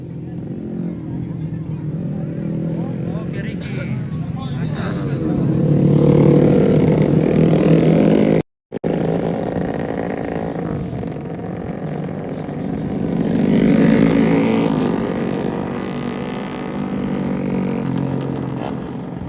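Racing motorcycles in the final sprint of an open road race at Rantetayo Airport, Tana Toraja, their engines swelling loudly past twice before fading, under continuous commentary and crowd babble.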